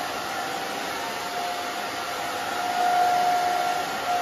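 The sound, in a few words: blow dryer drying hair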